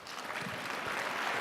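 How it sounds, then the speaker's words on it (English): Applause from an audience at a business academy event, a steady dense wash of clapping that holds at an even level for the whole stretch, with no voices over it. "It's a big round of applause."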